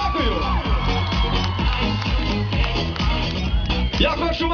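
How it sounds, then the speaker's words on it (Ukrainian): A concert crowd cheers, whoops and shouts loudly over live band music, the noise energetic and continuous throughout. "Ваші оплески, люди, дякую!"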